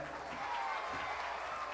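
An audience at a school folk song contest in Artvin claps in a dense, steady burst of applause, heard close and continuous.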